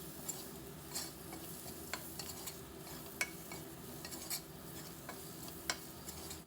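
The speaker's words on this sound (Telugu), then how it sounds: "ఒక్క పచ్చిమిర్చిని ఇలా చీలికలుగా కట్ చేసి వేస్తున్నాను అలాగే కొత్తిమీర కూడా వేసేసి ఒక్కసారి బాగా కలిపేసుకొని" Bitter gourd fry with sliced green chili and coriander is stirred in a pan, giving faint, scattered scraping taps of a spoon over a soft, low background, with no voices.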